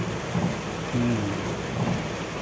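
Steady, dense rain roars close by in Chirala with a constant wash of hiss, a few low rumbling swells rising under it.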